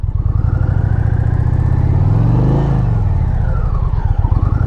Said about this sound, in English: I just wanted to show you how easy this bike is to ride with a little bit of slow drag race action